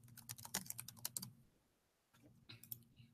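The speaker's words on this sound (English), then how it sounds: "they can type it in here" Quick bursts of typing on a computer keyboard, close and crisp, with a short pause before a few more keystrokes resume; no talking.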